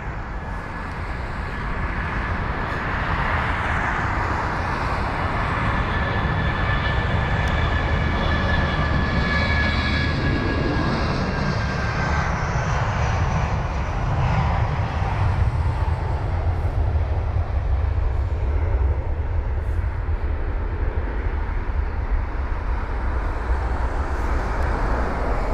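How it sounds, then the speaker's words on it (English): A British Airways Airbus A319 jet departs London Heathrow, a steady broad engine roar holding throughout at moderate distance with a faint whine riding on top, no voices present. "the Airbus A319 with flight number BA446"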